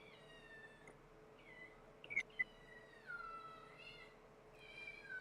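A domestic cat meows several times indoors, a series of drawn-out mews with a couple of short sharp sounds in the middle, fairly quiet against a low steady background hum.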